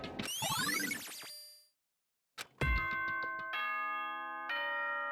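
Announcement chime from the video game Danganronpa: a bright ascending and descending cascade of bell-like tones, a brief silence, then a sharp struck onset followed by sustained ringing chimed notes that step and hold.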